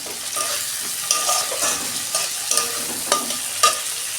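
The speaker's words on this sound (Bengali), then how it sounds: "কাঁচা লঙ্কা দিয়েছি তো, ভালো করে কষাবো আমি।" Masala with turmeric, chilli powder and green chillies frying in a pan, a spoon scraping and tapping in irregular bursts over a constant close sizzle.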